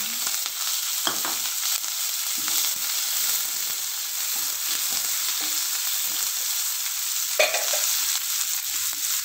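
Onions frying in hot oil with mustard seeds and urad dal, with curry leaves and green chillies for a spicy wheat-flour puttu, giving a steady soft sizzle and light stirring scrapes throughout, with a couple of brief louder crackles.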